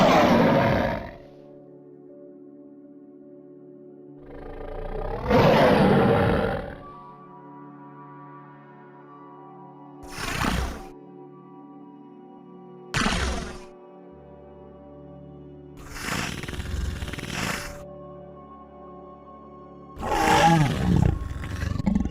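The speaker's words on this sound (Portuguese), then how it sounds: "Tigre. Tiger." A tiger roaring in several separate bursts spaced a few seconds apart, loud and close, with quiet gaps between the roars.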